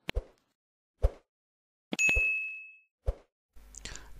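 A bright bell-like ding rings out with a sustained tone, amid short percussive pops spaced about a second apart, followed by a brief rustling burst at the end.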